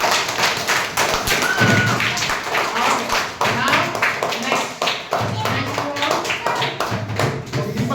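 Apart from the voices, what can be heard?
children clapping in a classroom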